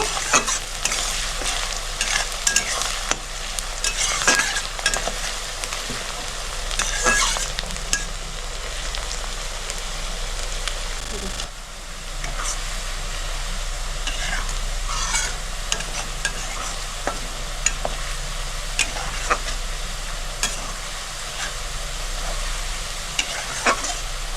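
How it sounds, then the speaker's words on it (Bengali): Onions fry in a pan on a gas stove for a chicken kosha, with a continuous close sizzle and repeated scraping strokes of a spatula stirring throughout, with no talking. "পেঁয়াজটা পুরো লাল করে ভাজবো না, হালকা লাল করে ভেজে মশলা দিয়ে নেব।"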